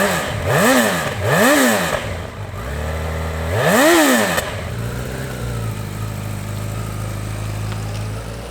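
A 2025 Honda CB1000 Hornet motorcycle pulls away on the road, its inline-four engine revving up and down through several rising and falling sweeps before settling into a steady cruising drone, loud and close.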